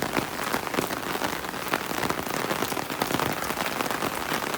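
Steady, heavy rain pattering densely on a surface, a constant close hiss of drops with no voices.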